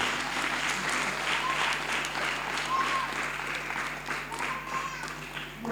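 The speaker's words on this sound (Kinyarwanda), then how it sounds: "Mwaduha amashyi niba twagerageje." Audience applause at a kindergarten graduation: a steady wash of many hands clapping for about six seconds, moderately distant in a hall.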